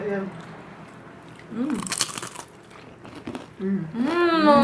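A crunchy snack bitten and chewed close to the mic, with sharp crackling crunches breaking through ongoing talk and a short high-pitched vocal exclamation near the end.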